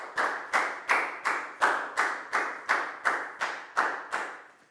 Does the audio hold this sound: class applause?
yes